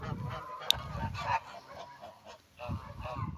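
Turkeys call out with nasal honking gobbles and squawks, close by, in a few bursts with short pauses between them.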